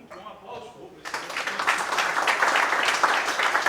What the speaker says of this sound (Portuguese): Um aplauso.